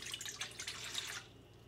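Soy sauce pours into a bowl for a beef jerky marinade, a soft trickling and splashing of liquid that runs for about a second before stopping, quiet and close, with no talk.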